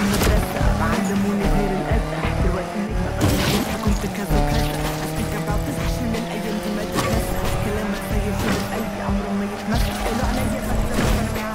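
Race cars rev and burn out at the start of a street race in Need for Speed Unbound, engines droning loudly and steadily with rising pitch sweeps, tire noise and a thumping music bed underneath.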